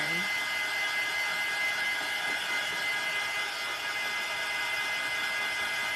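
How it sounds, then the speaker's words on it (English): A heat gun dries a craft Christmas ornament, blowing a constant loud, close whooshing roar that holds steady from start to end, with no talk over it. "we're gonna do arm's length and dry it very fast because this will melt with the heat gun"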